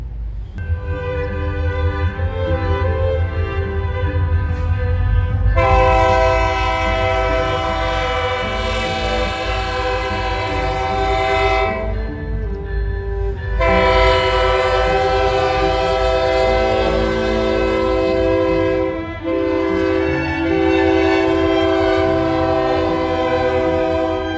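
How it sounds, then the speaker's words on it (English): A K&O freight train made up mainly of gondolas with hoppers at the rear sounds its horn in long, loud, sustained blasts with short breaks, over a steady low rumble of rolling cars close by. "The train consisted of mainly gondolas and some hoppers at the rear."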